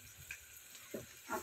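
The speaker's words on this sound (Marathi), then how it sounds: "ते टाकून छान असं परतून घेणार आहे।" Chana and cashew masala sautéed in a pan with homemade red chili powder, giving a faint, quiet sizzle with a couple of soft stirring scrapes.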